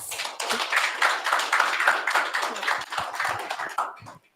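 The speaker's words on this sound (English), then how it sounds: "A round of applause for our guests." Steady applause from a conference audience of many hands, sustained and fairly loud, tapering off at the end.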